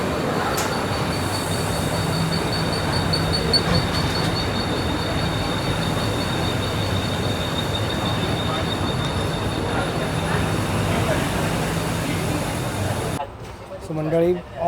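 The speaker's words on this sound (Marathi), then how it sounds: "ऑन टाईम आपली ट्रेन सुटलेली आहे 12:05" A Dadar–Sawantwadi Tutari Express train runs out of Dadar station with a loud, continuous rumble of wheels and carriages and faint squeals, a voice talking over it, before the noise drops away near the end.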